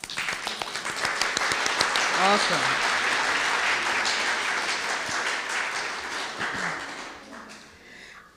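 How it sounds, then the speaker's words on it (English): An audience at a 2022 honor society induction ceremony gives a sustained round of applause that swells and then fades, while someone nearby briefly speaks over the clapping. "And I just clap for that."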